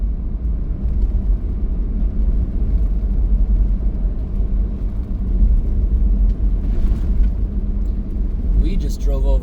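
A car rolls along a road and over a culvert on an evening drive, its engine and tyre rumble steady and close throughout, with a brief bump of road noise near the end.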